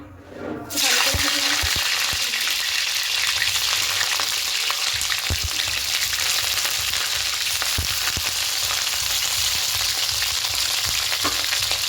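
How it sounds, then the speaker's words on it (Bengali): Tender cauliflower florets fry in hot oil, bursting into a loud, continuous sizzle just after the start and crackling steadily to the end with occasional pops. "প্রথমে ফুলকপিগুলোকে ভেজে নেবো"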